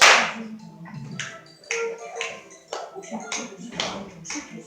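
Preschool children at a grandparents' day performance clap their hands in time to a sung action song, with sharp, regular claps cutting through their high singing voices.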